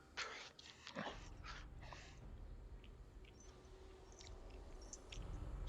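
A big German Shepherd comes close indoors, making faint snuffling, mouthing and soft whimpering sounds against a quiet room hum.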